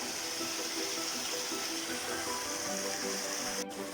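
Water rushes along a stream bed in Sorkun canyon near Sinop, a continuous close, bright hiss of flowing current with no talk, broken only by a brief click near the end.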